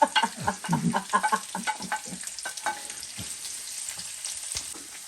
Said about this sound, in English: So Rhoda is gonna keep stirring for 1 minute.